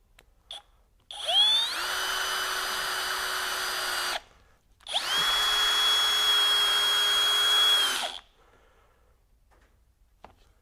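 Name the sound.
hammer drill driver driving deck screw into wood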